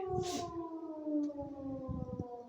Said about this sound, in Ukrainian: Сирени це вже для нас звичний фон в Дніпропетровській області